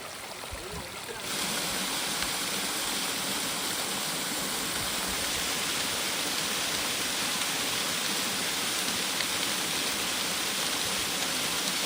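Steady rushing of water from a small stream waterfall at Vathalmalai, Tamil Nadu, cascading over rocks, a continuous close splashing roar after a brief quieter start.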